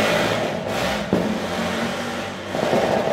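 A car or motorcycle passes on a city street in Brazil, a steady loud traffic roar that swells as the vehicle goes by, with a brief engine surge near the middle and another toward the end.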